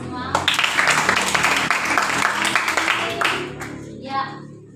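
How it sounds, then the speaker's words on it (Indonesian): Children and adults in an Indonesian classroom clap together in a busy, sustained burst lasting several seconds, with voices and cheers mixed in before it fades near the end. "Ya, tepuk tangan untuk semua."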